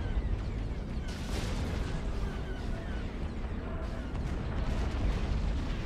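A space battle video game fills with a dense, steady roar of rocket launches and laser cannon blasts, layered booms and bursts rumbling continuously with no pauses.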